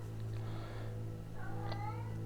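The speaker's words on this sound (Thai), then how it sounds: "c'est mon chat qui miaule" Pet cat meowing indoors, two or three short, faint mewing calls over a steady low hum.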